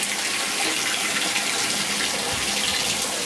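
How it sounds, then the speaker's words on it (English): Tap water runs steadily while aquarium sand for a 5-gallon betta tank is washed during a complete water change, a continuous close hiss and splash with no talking. "This is how I wash my sand when I'm doing a complete water change in Sammy's tank."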